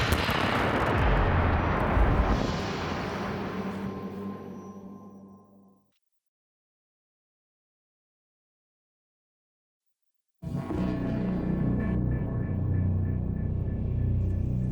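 Blasting charges detonate at an open-cut mine, heard from a vantage point about 800 metres away: a long, loud rumbling roar that fades into silence, then another heavy, sustained rumble returns abruptly.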